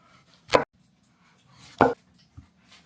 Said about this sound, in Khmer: ឡូវនេះខ្ញុំនឹងចាប់ផ្ដើមហាន់បន្លែ